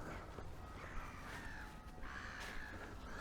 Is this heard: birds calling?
yes